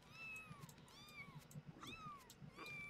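Several cats meow in turn, a series of clear, rising-and-falling cries spaced through the moment, close by and fairly strong over a low background hum.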